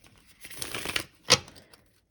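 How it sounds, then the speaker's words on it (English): A deck of tarot cards being shuffled during a reading, with a run of papery riffling and crinkling followed by one sharp, louder slap of the cards, then quiet; close and alone. "we'll do one last shuffle"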